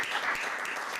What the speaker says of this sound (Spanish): vamos a darle un aplauso a todos los que han ido a trabajar allá